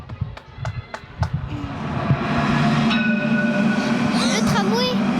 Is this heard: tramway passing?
yes